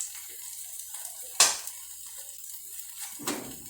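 A green-corn cake slides from a plate back into a frying pan, making one sharp clattering thump with a brief sizzle, then a second softer clunk near the end over a faint steady hiss.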